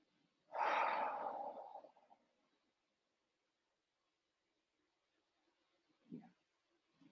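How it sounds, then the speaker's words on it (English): A person exhales in one strong, quick blowing breath near the microphone during a full moon practice, followed after a long quiet pause by a second, much softer breath. "And some quick exhales"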